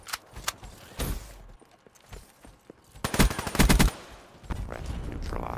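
SMG fire in Black Ops 3 multiplayer: several rapid close bursts of submachine-gun shots, with a sustained heavy burst in the middle and lighter mechanical clatter between the volleys.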